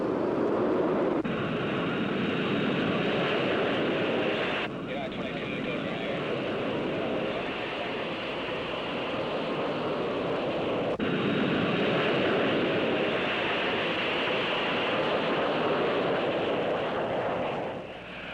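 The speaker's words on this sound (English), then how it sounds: "Flight 766 is in position for takeoff" Jet airliner roars down the runway on its takeoff roll, a loud sustained broadband rush that swells and holds at an early-1960s jet-age airport.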